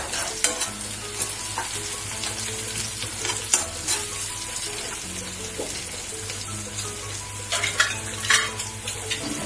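Onions fry in a pan for moong dal khichdi, giving a continuous sizzle under repeated spoon scrapes and light clinks against the cookware, close by with no talking.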